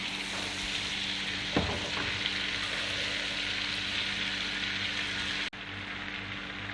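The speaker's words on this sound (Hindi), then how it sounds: "बटर ऑलमोस्ट मेल्ट हो गया है।" Butter, a generous amount, melting and sizzling in a pan for dal makhani, with a steady close hiss running throughout and a brief clatter partway through.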